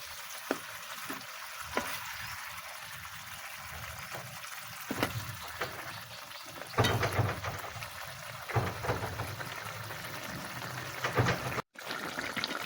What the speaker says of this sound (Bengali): এখানে পরিমাণ মতো জল দিয়ে দিলাম